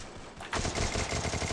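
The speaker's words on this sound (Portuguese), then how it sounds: "Um tiro, Crusher!" A gunshot in a shooting video game sounds as a sudden loud burst that gives way to a dense crackle of rapid firing, filling the short stretch.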